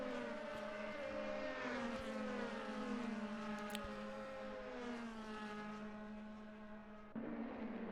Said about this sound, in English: I do like the noise of these engines, you know